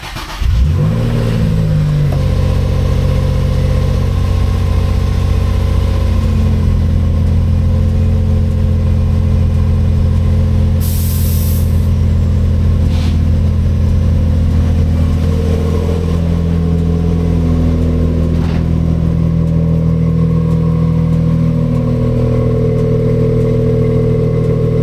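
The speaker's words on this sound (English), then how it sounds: "hopefully the car starts because it's been a few days" Infiniti G35, sitting for a few days and fitted with a high-flow catalytic converter, cranks and fires up loudly, then settles into a steady, deep idle that runs on for over twenty seconds.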